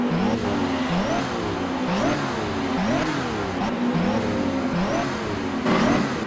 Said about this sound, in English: Brad Pierce is willing his car out of the gravel.